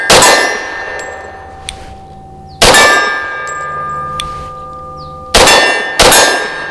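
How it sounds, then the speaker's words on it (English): Three sharp metallic clangs ring out from .45 rounds fired from a Bersa B1911 pistol striking a steel target, each impact leaving a bright, lingering ring before the next, loud and close with no talking. "Man, it certainly makes a different noise on the steel, doesn't it? That hits."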